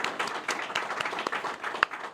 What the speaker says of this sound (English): please join me in a resounding round of applause in recognition and